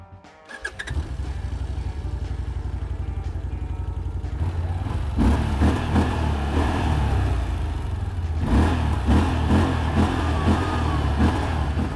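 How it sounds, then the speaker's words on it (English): A two-cylinder CF-Moto CForce 1000 ATV engine starts up and idles with a loud, throbbing rumble, then revs up repeatedly in rising bursts, close and alone. "They are both two-cylinder engines. Let's check out how they sound."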